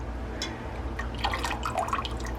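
Thick homemade apple core jelly drips and falls off a spoon in soft, wet splats, a quiet trickle of liquid close by with no talking.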